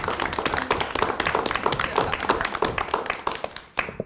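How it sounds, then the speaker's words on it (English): Audience applause at an institutional advisory council meeting for a college, many individual claps heard distinctly in a brisk, uneven patter at moderate volume, tapering off with a short pause before a final few claps. "let's give them a round of applause with, of course, our great president,"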